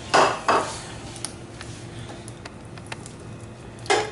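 A cooking handi clanks onto a stovetop as a second pot goes on for ghee, giving a few sharp metallic knocks over a steady kitchen hum.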